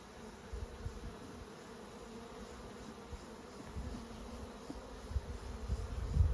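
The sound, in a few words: honey bees buzzing at open hive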